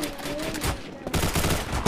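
Rapid gunfire from shooting zombies in a Malaysian zombie survival video game, bursts crackling through most of the clip with a louder blast at the end, mixed with game noise and faint voices.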